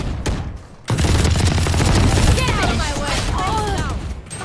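A swarm grenade goes off in a tactical shooter video game, setting off a dense burst of rapid popping and crackling explosions after a brief lull, with a voice speaking over the chaos.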